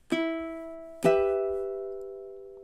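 Two strummed ukulele chords ring out, closing measure 13 of a minor 12-bar blues: a bright attack, then a second strum about a second later that sustains and slowly fades.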